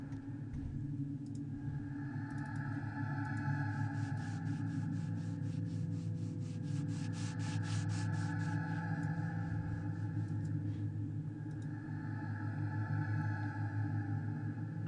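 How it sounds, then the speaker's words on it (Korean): A broom sweeps the floor of an empty, silent study hall, its scratchy strokes running steadily over a constant low drone, thickest through the middle, with no voices. "빗자루 바닥을 쓰는 소리가"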